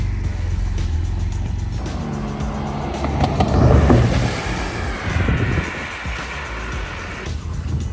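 A Porsche driven by an instructor in a sliding demonstration at a Porsche Experience Center in Shanghai: engine roar builds to a loud peak mid-clip with tyre and wind noise, then eases off.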